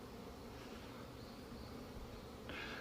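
A steady, dense buzzing of many hornets swarming close around a hornet trap at a beekeeping apiary, continuous throughout with a slightly brighter, louder burst near the end.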